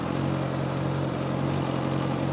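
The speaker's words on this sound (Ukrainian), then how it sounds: "Робота двигуна майже не змінюється, все в рамках норми. Робить дуже тихо." A Honda CB600F Hornet motorcycle idling with the clutch lever pulled in, a smooth, even, quiet engine hum that stays steady and unchanging throughout, heard alone without any voices.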